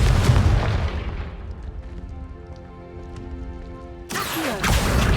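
A Confringo blasting spell goes off in Hogwarts Legacy on PS5 with a loud, booming explosion and a long rumbling decay, followed by a second sharp burst of blast and debris near the end.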